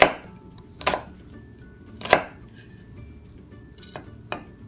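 A kitchen knife slices through an onion on a cutting board in five separate crisp chops spaced about a second apart, each a sharp close knock on the board with quiet gaps between.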